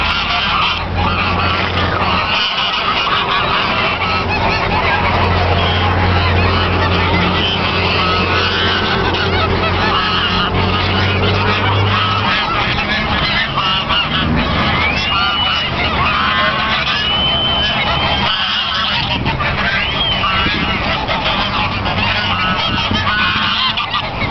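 A flock of geese honks nonstop, loud and close, with many overlapping nasal calls forming a dense, continuous chorus, at Avanos.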